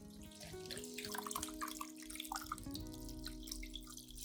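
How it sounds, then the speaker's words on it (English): Orchid roots and base soaking in a turmeric and banana peel solution, with faint, steady trickling and sloshing of liquid at low volume. "I will soak the entire base and roots of the orchid in the turmeric and banana peel solution"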